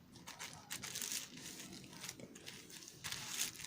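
A plastic bag is folded into thirds up close, giving continuous soft crinkling and rustling with a few sharper crackles, quiet and alone.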